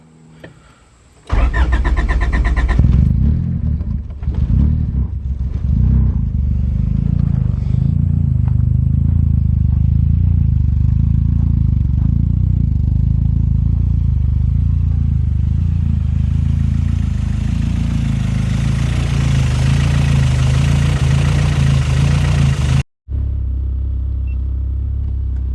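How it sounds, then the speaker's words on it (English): A Honda Civic engine running on E85 cranks and fires on a cold start, then settles into a steady, loud idle close by, cutting out briefly near the end before resuming. "let's get into an E85 cold start and see how she wants to run today"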